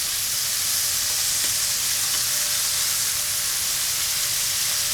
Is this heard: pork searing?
yes